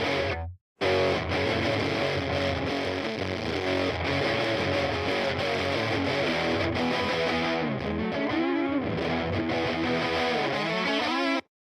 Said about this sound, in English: for some classic rock tones, definitely this amp is great.